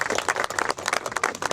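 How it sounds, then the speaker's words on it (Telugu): An audience claps at a foundation stone ceremony, a steady patter of many hands at close range. "గట్టిగా చప్పట్లు కొడదాం"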